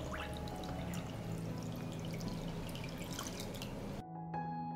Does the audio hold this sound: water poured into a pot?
yes